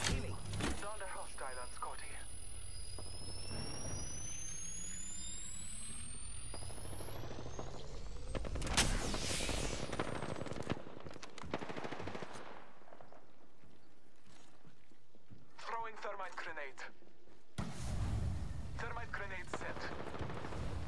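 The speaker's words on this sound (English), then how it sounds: "They're shooting at me." Gunfire from a first-person battle royale shooter game, Apex Legends: bursts and single shots cracking at varying distances, some rapid automatic strings, under a player talking, with other game effects and voices mixed in.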